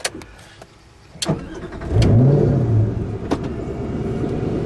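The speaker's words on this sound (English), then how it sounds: "It does sound so good. That's the Hefner exhaust." A 2006 Ford GT engine fitted with an aftermarket Hefner exhaust starts up with a loud bark, then settles into a deep, rumbling idle close by, with a few sharp clicks before it.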